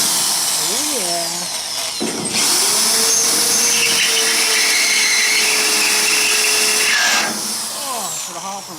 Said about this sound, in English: now let's try drilling our bigger hole